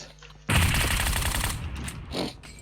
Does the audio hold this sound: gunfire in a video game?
yes